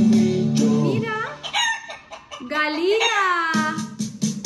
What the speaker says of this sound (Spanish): Dime se si tú hace? sabes cómo hace la gallina.